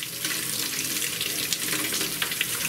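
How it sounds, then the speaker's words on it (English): Water from a tap runs steadily as a Scrub Daddy Big Daddy scrubber is rinsed under it, a continuous close hiss and splash throughout. "I'm going to rinse it out again here."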